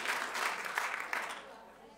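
A short burst of clapping from a small crowd, fairly faint and fading out after a second and a half.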